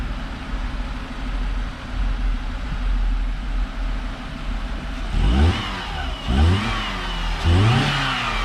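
Engine of a 2001 Dodge Neon with a moving airbox, idling steadily and then blipping through three sharp revs in the last few seconds, each rising and falling quickly, close and loud.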